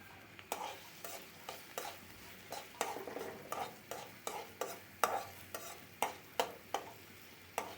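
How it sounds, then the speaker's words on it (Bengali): Chopped onions browning in oil in a kadai give a soft, steady sizzle under regular scraping strokes of a spoon, roughly two a second, quiet and close with no talking. "পেঁয়াজগুলোকে আমরা লাল করে একটু ব্রাউন কালার করে নিচ্ছি।"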